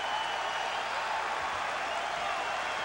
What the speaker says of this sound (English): the fans are still standing and applauding that move